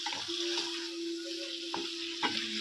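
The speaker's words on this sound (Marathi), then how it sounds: "आता त्याच्यात आपण हे मॅरिनेट केलेले प्रॉन्स टाकून देऊ सगळे।" Marinated prawns frying in butter and garlic in a pan, a steady close sizzle with a few stirring scrapes and clinks of a utensil against the pan.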